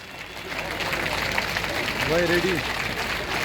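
Applause from a crowd at a public function in Beerwah, Budgam, goes on as a steady wash of clapping while a voice speaks over it through a public address system.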